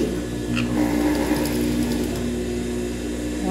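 A sewing machine stitches around the edge of a child's envelope-style dress with a fully lined bodice, giving a steady, continuous mechanical whir with a fine rapid clatter, close and moderately loud throughout.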